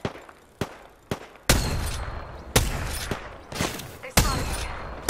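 Gunfire in a shooter video game: sharp, loud shots repeating at irregular intervals, several followed by ringing decays and rumbling echoes, close and dominant throughout.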